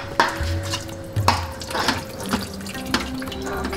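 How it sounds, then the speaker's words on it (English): Browned meat and its fat being drained through a colander in a kitchen sink, with running water, splashing and scattered drips, close and fairly loud. "we're gonna just drain it, and I'm gonna use a colander for that."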